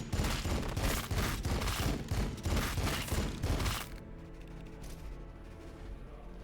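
Dense volleys of gunfire from a Warhammer 40,000 Battlesector battle rattle loud and continuous for about four seconds, then cut off abruptly to a low mechanical hum.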